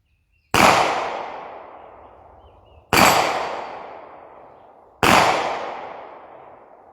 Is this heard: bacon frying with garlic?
no